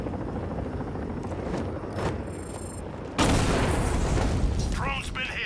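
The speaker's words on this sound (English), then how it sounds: "Drone's been hit." A flying drone in the Batman Arkham Knight video game whirs steadily, then is struck by a sudden loud blast partway through, followed by a sustained rushing roar.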